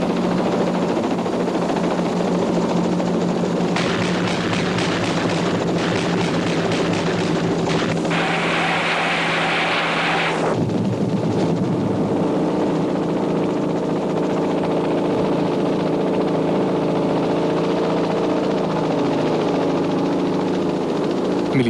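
A military helicopter in a 1984 computer graphic war simulation: a steady engine and rotor drone with a continuous hum, shifting in tone partway through, heard alone throughout.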